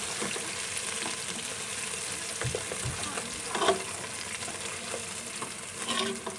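Onions sizzle and fry in a pan for matar aloo curry, a steady soft crackle with occasional stirring scrapes and small pops, moderately quiet and without talk.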